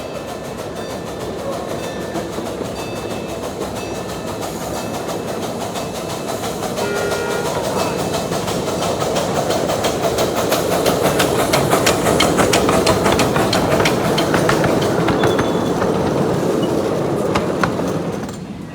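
Train number 1 pulling into the station at a steam and power show: a steady rumbling roll with rhythmic clicking of wheels and metallic clanks, growing louder and nearer over about eighteen seconds before easing at the end.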